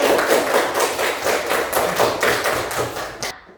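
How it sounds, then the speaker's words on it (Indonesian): Audience applause at a classroom group presentation session, a burst of clapping from a small crowd with rhythmic pulses, fairly close, fading out abruptly near the end. "Berikan aplaus dulu untuk"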